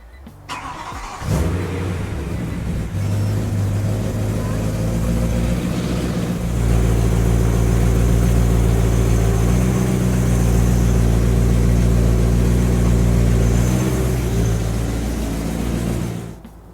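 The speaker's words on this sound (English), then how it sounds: "then you're going to turn the car on and then steer it back and forth a couple times" A BMW E92 M3 engine starts and idles steadily while the steering is turned back and forth during a power steering fluid change, a loud, close, continuous hum with slight shifts in load.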